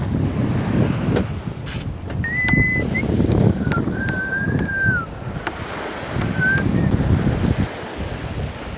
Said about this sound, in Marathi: आम्ही आता सरजेकोट समुद्राजवळ थांबलो